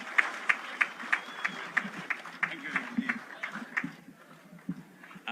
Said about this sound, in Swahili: Kwa makofi.